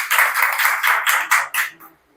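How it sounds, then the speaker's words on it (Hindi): A seated audience at an indoor gathering breaks into a burst of enthusiastic clapping, dense and steady at first, then thinning into a few last claps as the applause fades. "हमारा अपलाइन सीमा दी के लिए एक जोरदार ताली बजाइए।"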